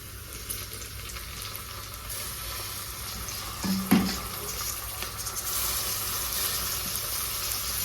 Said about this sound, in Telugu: ఇప్పుడు ఈ టమాటోస్ని కూడా వేసేసుకుందాం గైస్